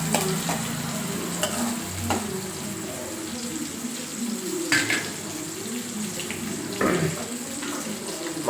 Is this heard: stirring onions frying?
yes